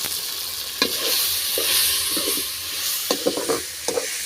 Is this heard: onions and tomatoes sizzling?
yes